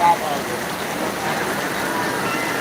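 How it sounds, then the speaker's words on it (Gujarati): Heavy rain pours steadily in a dense, even hiss, loud and unbroken from start to finish. "હાલ જબરજસ્ત વરસાદ ચાલુ"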